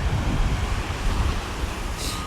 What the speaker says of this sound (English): But this is the Atlantic Ocean right here.